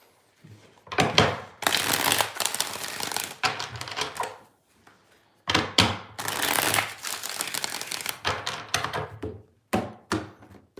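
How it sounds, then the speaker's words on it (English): Tarot cards shuffled by hand in two long bursts of riffling and flapping, close and fairly loud, separated by a short pause and ending with a couple of soft taps. "Let's get two more shuffles here, two more."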